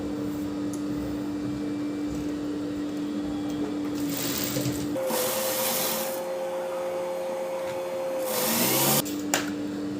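A sewing machine stitches a T-shirt made from a converted chudidar. Its motor gives a steady, close whirring drone that shifts pitch partway through, with brief louder bursts of stitching. No voices are heard.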